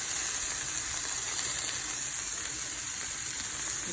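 Chicken frying in olive oil in a pan, a steady bright sizzle hissing continuously and close, with no voices.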